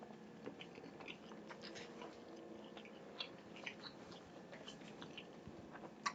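Someone bites and crunches hard shells left in food while eating, making close, quiet, irregular crackling chews spread steadily through the stretch.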